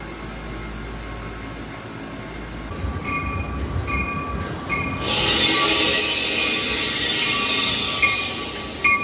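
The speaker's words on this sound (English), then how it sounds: "We just got off the train" A train passes close by on Church Street in Hartford, Connecticut, wheels squealing and rattling, then a loud rushing hiss of the cars that holds steady to the end.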